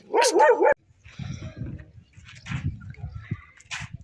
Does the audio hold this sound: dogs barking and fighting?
yes